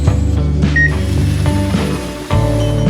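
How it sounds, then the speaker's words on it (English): A Lego drill mechanism in a robotic car factory bores holes through toy car wheels and body, giving a loud, steady motor whir with shifting pitch, a brief beep-like tone and a short dip before it resumes. "The function of this drill is to make holes through the wheels and body."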